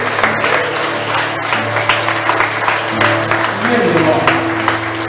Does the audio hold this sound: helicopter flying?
no